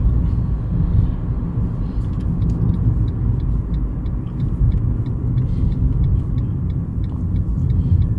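A car joins a motorway near Lancaster, heard from inside as a loud, steady road roar and engine rumble with no break. Faint light ticks sound now and then over the drone.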